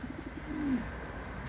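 A short low coo from a domestic pigeon in a loft, a quick stutter of soft notes rolling into one drawn-out throaty call, close and fairly quiet over background hum.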